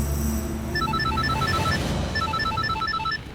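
A telephone rings with a steady electronic ringtone, its repeated pulsing tones running continuously and loud without pause, in a domestic drama scene.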